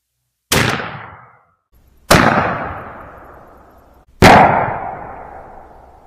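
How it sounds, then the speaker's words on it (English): .410 bore shotgun firing 3-inch Remington Premier TSS turkey loads with No. 9 shot at a target 30 yards away: three loud, sharp reports spaced about two seconds apart, each with a long ringing outdoor decay. "shoot these number 9s, and do on this life-size turkey target here at 30 yards"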